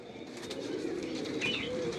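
Large pigeons with big helmet-sized heads, pink beaks and wide round eyes give a soft, low continuous cooing, fairly close, with faint bird chirps and wing flutter mixed in against steady background noise.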